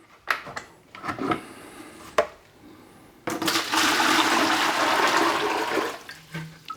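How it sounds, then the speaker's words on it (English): Water pours into a big bucket for mixing plaster for a slip-casting mold: a few knocks and splashes, then a sustained loud rushing pour lasting several seconds before it tapers off. "So first, water into the big bucket."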